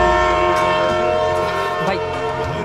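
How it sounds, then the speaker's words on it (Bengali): A train pulls into a railway station, its loud, sustained horn-like tone ringing over a heavy rolling rumble throughout. "আমার মনে ট্রেন এসে গেছে, আমাকে উঠতে হবে।"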